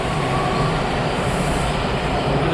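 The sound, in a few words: train passing in the other direction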